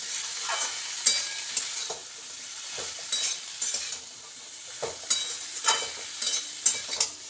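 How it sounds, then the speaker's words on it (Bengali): Figs frying with spices in a pan, a soft continuous sizzle broken by repeated scraping strokes of a spoon or spatula against the pan, close and moderately quiet, with no talk. "ডুমুরগুলো দিয়ে খুব ভালো করে মশলার সাথে এটাকে বেশ খানিক্ষণ আমি কষিয়ে নেব"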